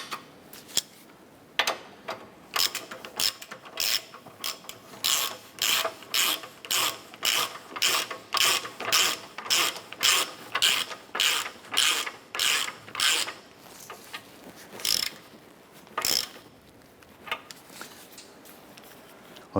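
A ratchet spins and tightens the lower ball joint nut on a 2008-2012 Honda Accord driver side suspension knuckle, giving close, loud bursts of rapid clicking in a steady rhythm of repeated strokes, with no talk.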